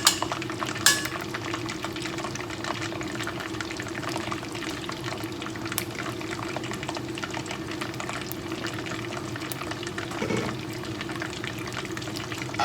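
Sausage frying in a pan, a steady dense sizzle and crackle throughout with occasional pops and a few clinks of a utensil against the pan, no talking.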